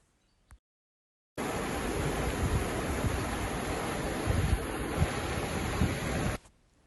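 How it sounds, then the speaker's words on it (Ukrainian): Steady broadband rushing water, loud and continuous, starting abruptly after a brief click and cutting off near the end, like a fast-flowing river close by. "Прислухайтесь, як шипоче річка."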